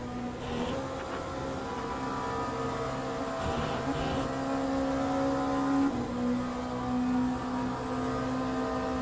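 An LMP2 race car engine in the racing game Le Mans Ultimate, driven online at Spa, rises and falls in a buzzing whine as it accelerates and shifts through gears, fairly quiet and steady.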